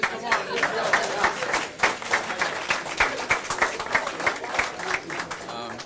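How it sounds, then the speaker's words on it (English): A crowd at a campus grand opening in Auckland claps in a dense, lively burst, many hands close and loud with pulsing peaks, while voices carry faintly underneath. "let's give him a clap, guys"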